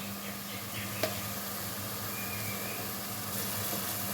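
Onion paste and ginger-garlic paste frying in oil for a chicken curry, a steady low sizzle with faint stirring and one brief knock, no talking.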